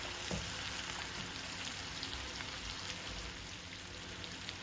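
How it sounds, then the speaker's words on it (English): Beef short ribs brown in a hot pan, producing a dense, steady, rain-like sizzle throughout with no clear pauses. "our beef is browning pretty good"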